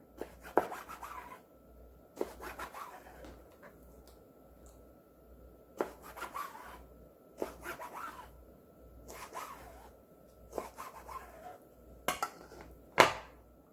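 A knife cuts squid into thick strips for frying, giving a series of separate chopping and scraping strokes on a board at irregular intervals over a quiet background.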